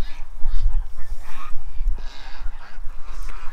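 Ducks at a barn door quack loudly and close by in a series of repeated, uneven calls.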